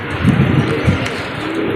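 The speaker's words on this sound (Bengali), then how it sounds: "এটা হলো বিজি গলা লাইনের কবুতর" Pigeons of a Bengali breed known as BG gola line cooing close by, low soft throaty coos repeating a few times over faint background noise.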